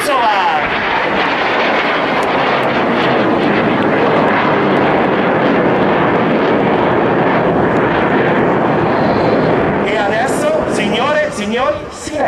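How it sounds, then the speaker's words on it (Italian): Frecce Tricolori Italian jets performing aerobatics at an air show, a loud continuous broadband jet roar sustained throughout, with a crowd and announcer talking over it toward the end. "questo è l'unico jet al mondo ed è italiano che può eseguire il Lomsovar"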